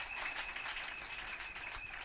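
Audience applause for a woman at a church anniversary gathering in Divo, a steady wash of many hands clapping at moderate distance throughout, fairly soft, with no speech over it.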